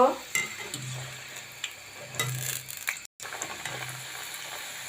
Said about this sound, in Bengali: তেল গরম হয়ে গেছে, লুচি দিয়ে দিব।